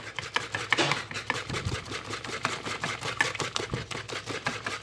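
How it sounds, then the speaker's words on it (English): A whisk beats pancake batter with flour in a bowl, giving a fast, steady run of soft scraping and tapping strokes, close and fairly quiet. "Just whisk it, get all the lumps out of the flour."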